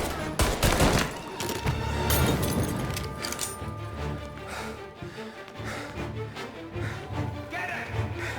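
Gunfire in the video game Mafia Definitive Edition, with dense overlapping shots and rapid bursts continuing steadily throughout, heavy early on and then sustained under a busy mix of crashes and clinks.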